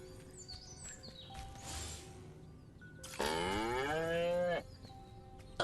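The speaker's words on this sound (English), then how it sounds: "Again with the moo?" A cow moos once in the Destroy All Humans video game, a long loud low call standing out alone over faint ambient game sounds and a few clangs.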